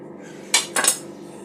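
Crusts being cut off white bread slices for chicken bread pockets: two quick, close knife strokes scraping against a plate or board in quiet surroundings, the second a double scrape.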